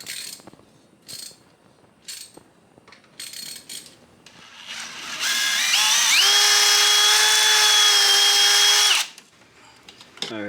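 A power drill drills holes for supercharger mounting brackets on a Ram truck, running in one steady, loud burst that rises in pitch and lasts about three seconds, after some quieter handling noises and light talk.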